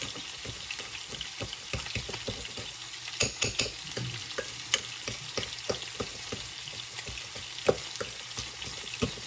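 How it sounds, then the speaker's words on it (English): A fork mixes garlic butter ingredients in a bowl, producing quick, repeated light scraping and tapping strokes at close range against a soft background hiss, with no talk. "I'm going to blend up these ingredients that I just put in for the garlic butter"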